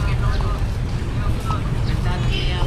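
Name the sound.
street traffic of many motorcycles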